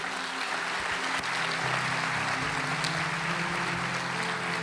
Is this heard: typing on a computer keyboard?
no